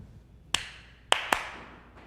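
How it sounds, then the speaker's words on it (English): Three sharp hand claps in a short rhythm, one alone and then a quick pair, close and clear against a quiet room with no talking. "we're going to clap this rhythm."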